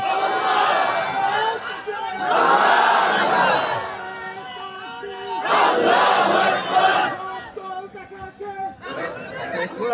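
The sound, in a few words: crowd shouting slogans at a religious gathering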